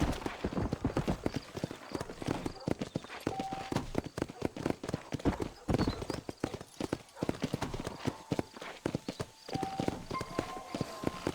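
A horse gallops in Red Dead Redemption: Undead Nightmare, its clip-clop hooves pounding in a fast, steady rhythm close by for the whole stretch, with faint tones and a voice briefly over the hoofbeats.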